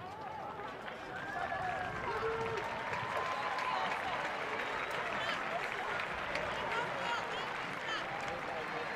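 Crowd applause at a 2023 ACC women's soccer match between North Carolina and Duke, a broad, distant wash of clapping and stadium noise under a commentator's steady talk.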